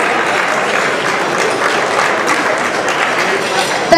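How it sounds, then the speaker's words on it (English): A hall audience at a Hall of Fame awards ceremony applauds award winners with steady, full clapping that holds evenly from start to finish. "Can I please have a round of applause to all the winners in that batch of awards"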